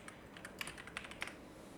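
A quick, quiet burst of keystrokes on a computer keyboard, several light irregular clicks over about two seconds with no voices.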